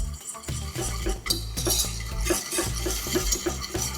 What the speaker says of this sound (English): you're gonna start slowly adding your milk to it